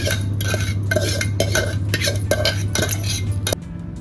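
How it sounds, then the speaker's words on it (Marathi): Vermicelli roasting in oil in a pan is stirred with a metal spoon, giving repeated scraping clinks against the pan in a steady rhythm, close and fairly loud, with a low hum underneath that drops out near the end. "शेवया आपल्याला लालसर भाजून घ्यायचं आहे, चांगले लाल जरा भाजायचे आहे."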